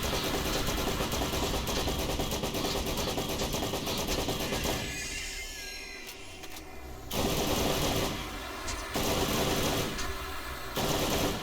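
Rapid bursts of gunfire from a five-round burst weapon with a fast fire rate in the PC game Borderlands, loud repeated volleys with brief gaps over a constant background rumble.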